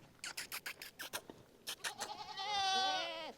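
Hungry goats in a Pakistani village bleat, a run of short rapid calls followed by one long wavering bleat, moderately close.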